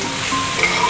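Bori lentil dumplings stirred as they fry in a pan, a dense, loud sizzle with a scraping stir running through it, heard close up for a moment and with no talk.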